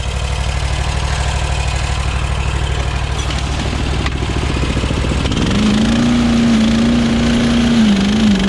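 A Cyclone Rake leaf vacuum engine idles roughly with a loud, rattling pulse, then revs up near the five-second mark into a steady, strong running drone that wavers slightly in pitch.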